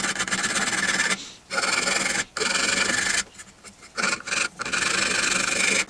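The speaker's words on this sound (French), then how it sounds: "il faut juste passer un coup de lime, mais il faut le faire" A metal file rasping along the sharp edges of a budget Silverline hand plane, in repeated loud strokes of about a second each with short pauses between them, close up, with no speech.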